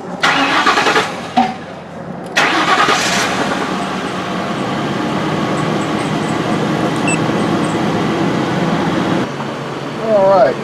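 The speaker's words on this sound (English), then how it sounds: "Start the car up." A 1996 Mercury Grand Marquis engine cranks and catches, then settles into a steady, loud idle with a broadband whir and occasional brief clicks and clunks close by.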